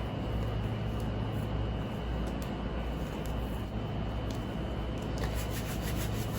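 Hands steadily rub soft loc hair strands together, a close, continuous dry brushing and scratching texture over a faint background hum.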